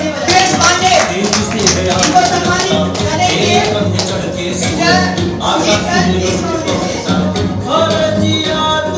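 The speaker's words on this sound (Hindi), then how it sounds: "पहले तो बिग राउंड ऑफ अप्लॉज" Audience applause at an award ceremony, dense continuous clapping that fills the whole stretch at a loud, steady level with faint crowd noise beneath.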